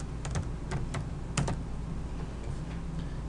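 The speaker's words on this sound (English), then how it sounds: "And let's type that in." Close computer keyboard typing, a quick run of light clicking keystrokes in irregular bursts over a steady low background hum, with no voice.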